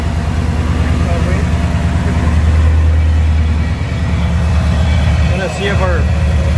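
A Ford SVT Lightning pickup engine runs on a dyno with a loud, steady low drone and a deep throb that swells briefly near the middle. Voices are heard faintly under the engine.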